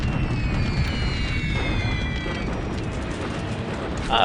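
Bombing-run explosions in the Blood in the Air air-war game form a loud, continuous broadband rumble, dense and near, with faint high tones sweeping past, and a sharper burst at the very end.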